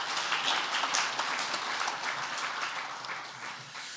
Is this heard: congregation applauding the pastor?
yes